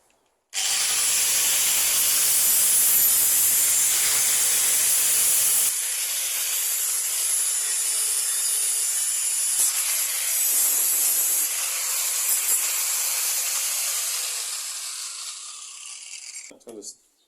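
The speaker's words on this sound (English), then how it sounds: "grinder and the sanding disc on it" Continuous harsh, high-pitched grinding hiss of an angle grinder with a sanding disc on metal of a Massey Ferguson finger bar mower, steady for most of the clip, dropping in tone midway and stopping at the end.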